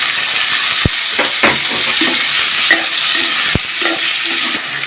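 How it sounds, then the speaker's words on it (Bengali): Chopped onion and tomato sauté in oil in a pan for a Chittagong-style muriganda dish: a loud, continuous sizzle broken by repeated spoon scrapes and two sharp metallic knocks. "একটু কষাই নিতে হবে ভালো করে সাত আট মিনিট কষাই নিতে হবে"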